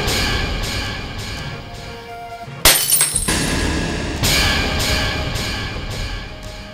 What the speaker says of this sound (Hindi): जब सीन के दौरान रजत के हाथ से शीशा टूट गया